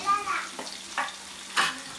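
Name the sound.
ginger, garlic and onion frying in sunflower oil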